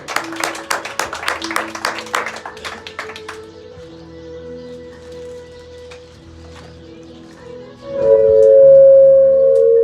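Church congregation clapping for the Lord during a sermon, a burst of rhythmic hand claps over sustained organ or keyboard tones that fades after a few seconds, leaving the music alone.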